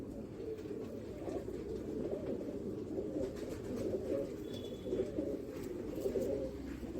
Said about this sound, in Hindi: ये उम्र दराज है थोड़ा सा कबूतर।